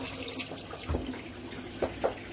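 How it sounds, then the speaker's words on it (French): Running tap water while forearms are washed with neutral soap in a testing lab, a soft continuous splash with a few brief louder sloshes near the end, no voices. "on va faire un petit lavage des avant-bras avec le savon neutre"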